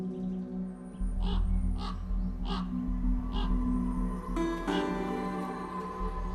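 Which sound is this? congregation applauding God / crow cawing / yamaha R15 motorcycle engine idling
crow cawing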